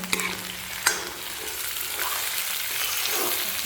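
Potatoes and tomatoes fry and sizzle steadily in a pan while being stirred, with a couple of sharp scraping knocks near the start and a constant close crackle throughout.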